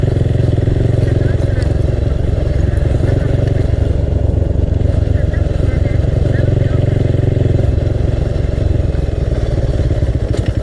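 A motorcycle carrying a rider and a passenger runs steadily along a road toward Ujung Genteng and Karang Bolong, its engine a loud, continuous mid-range drone with wind rumble and rattling throughout, and a voice talking over it.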